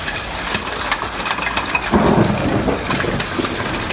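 A real hailstorm with thunder passes over Bor, a dense roar of hail and rain with a low rumble of thunder swelling near the middle, loud and continuous throughout, with no voices.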